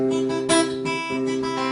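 Rapid, even flamenco-style tremolo picking on a nylon-string Spanish guitar, thumb adding bass notes, notes shimmering continuously with a steady plucked rhythm, close and clear with no voices.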